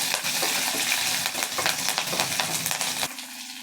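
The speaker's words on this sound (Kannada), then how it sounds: "ನೀಟಾಗಿ ಫ್ರೈ ಮಾಡ್ಕೊಳ್ಬೇಕು" Curry leaves, green and dry chillies and hing frying in hot oil, a steady close crackling sizzle with light stirring that cuts off abruptly near the end.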